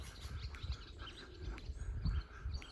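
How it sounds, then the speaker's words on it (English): Faint bird chirps and tweets come from a distance over a soft outdoor background in a village in Corfu, Greece, with occasional low rustling and no talking. "you can hear the bird song"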